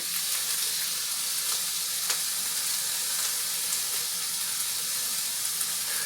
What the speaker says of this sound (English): So I'll get that corn in there. Oh, there we go. See, here's the sizzle.